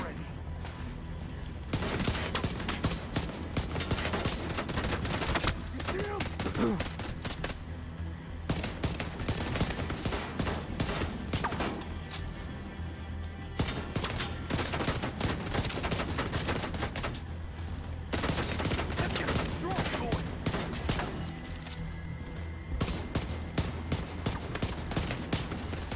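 Sustained automatic gunfire in The Division 2 aimed at a boss's shield, loud rapid bursts hammering on for long stretches with brief pauses between volleys, a voice talking over parts of it.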